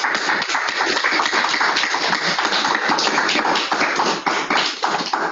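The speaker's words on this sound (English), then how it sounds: "And we even have people clapping" Steady applause from an audience at the close of a scientific talk, dense overlapping claps sustained evenly throughout with no voices.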